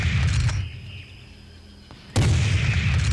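Gunfire in Serious Sam HD: heavy blasts and rumbling combat fill the opening, drop to a hushed lull, then a loud shot abruptly brings the booming back.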